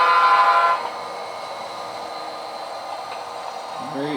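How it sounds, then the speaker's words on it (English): A low, steady rail rumble carries from a train far off in Huntington Beach, with a brief tonal horn-like hum at the start before the sound settles into a faint, even drone. "see the train way off in the distance"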